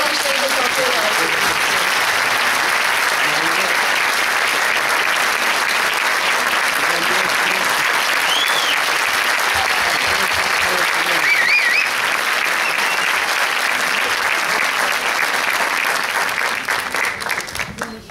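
Audience applause fills a concert hall for the choir's conductor, a dense, steady wash of clapping that holds loud for about eighteen seconds before tapering at the end, with a few cheers rising through it.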